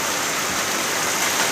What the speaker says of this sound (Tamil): மழை பெய்ய ஆரம்பிச்சிருக்குது.